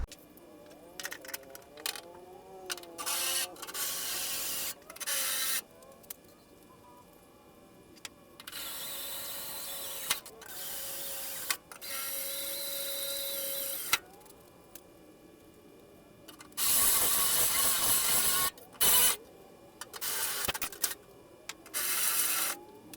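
Repeated bursts of power-tool whirring, drilling and grinding alternate with quiet pauses and scattered clicks and clanks of metalwork up close, drilling out holes and installing rivet nuts on a Honda Element pickup conversion.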